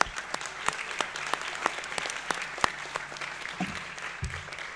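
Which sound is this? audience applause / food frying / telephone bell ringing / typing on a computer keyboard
audience applause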